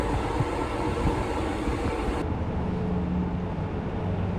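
Steady rumble and rattle of a Thai special express train running on rails to Chiang Mai, a continuous low clatter with broadband noise throughout, fairly close and even in loudness.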